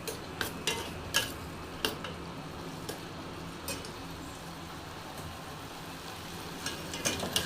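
Pineapple sheera roasting in a pan over a low gas flame, a soft steady sizzle under scattered light clicks and scrapes of a spoon against the pan, with no talking.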